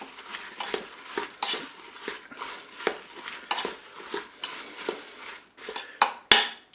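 Apple pieces, orange segments, sugar and water being stirred in a Cookeo pot, a spoon scraping the bowl in steady repeated strokes, close and fairly loud, ending with a sharp clink.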